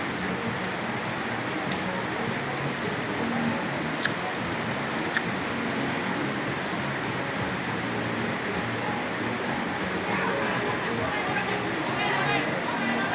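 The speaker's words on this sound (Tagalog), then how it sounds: "Kita pa rin ang ulan." Steady rain hisses down outdoors near a highway on a Philippine evening, a constant wash of drops with a couple of faint sharp knocks.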